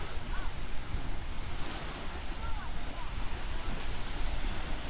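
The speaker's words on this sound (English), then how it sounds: "It's nice just to listen to the water." Small waves lap steadily against a lake beach on a summer day, a continuous near wash of water mixed with breezy wind rumble on the microphone, with no talking.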